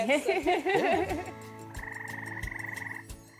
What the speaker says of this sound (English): Frogs attract females by the whistles, by the noises.